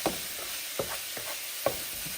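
Minced fresh garlic cooking in a pan for lasagna soup, a soft steady sizzle with three spaced utensil scrapes, quiet and near, no voices.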